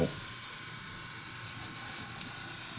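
An airbrush sprays paint onto a Brummbar scale model, giving a steady, quiet, continuous hiss that holds evenly throughout with no talk over it.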